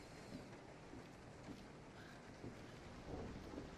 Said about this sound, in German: Jetzt gewittert es auch noch.